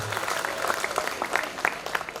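Audience applause at a Khodiyar Mataji festival gathering organised by a family community, a dense, steady wash of many hands clapping with crisp individual claps standing out, moderately loud throughout.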